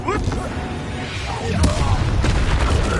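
Confringo spell blast in the Hogwarts Legacy video game, a booming explosive burst among rumbling combat effects, loud and close, with a voice speaking over part of it.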